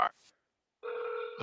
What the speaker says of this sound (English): I hear a phone call.